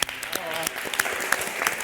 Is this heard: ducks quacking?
no